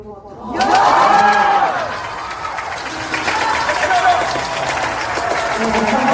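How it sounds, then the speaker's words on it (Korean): Applause from a church youth group gathered for a Sunday service, a steady broad patter of clapping lasting several seconds with crowd noise and voices mixed in. "호영이가 또 아름답게 또 옆에서 박수를 쳐주고 있습니다"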